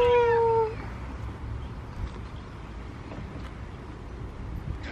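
A needy cat meows once, a clear close harmonic cry in the first second, followed by quiet room noise with faint wind.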